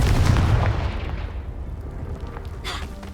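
A Confringo blasting spell in Hogwarts Legacy detonates against a pile of debris with a loud, close boom that rolls into a long, fading rumble and crackle of settling rubble, with no voices.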